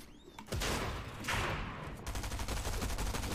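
Assault rifle and shotgun fire in Fortnite break out in loud, rapid, overlapping bursts that continue without pause after a quiet start.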